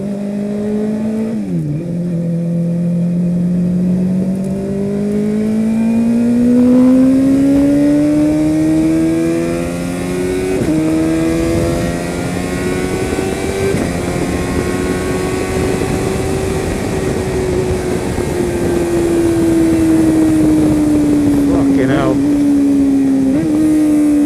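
A motorcycle with sidecar and passenger riding on the road, its engine droning loudly and steadily, rising and falling in pitch as it speeds up and eases off, with wind noise throughout.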